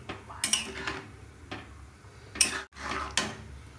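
A spoon clinks against a cooking pot while fresh green peas are stirred over a medium flame, a handful of sharp metallic taps spaced irregularly and heard close, with no talking.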